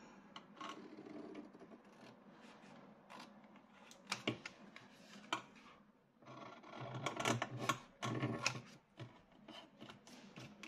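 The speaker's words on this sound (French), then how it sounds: "Je coupe mes angles." Paper being cut at the corners for a handmade album cover, heard as close, intermittent scraping and snipping with handling rustles and a few sharp clicks, growing busier toward the end, with no talking.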